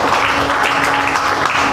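A church congregation claps loudly and steadily at a Telugu gospel service, a dense wash of hands with no talk over it.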